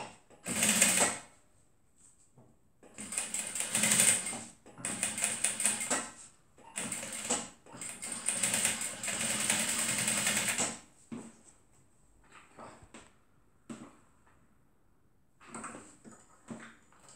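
A sewing machine stitches pinned fabric layers for a lined zipper purse. It runs in repeated bursts of rapid mechanical whirring, some short and some sustained for several seconds, separated by brief pauses.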